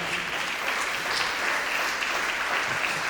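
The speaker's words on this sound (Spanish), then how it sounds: "dale un aplauso al Señor" A church congregation claps together in a continuous, fairly loud burst of applause, even in intensity from start to finish, with no talk over it.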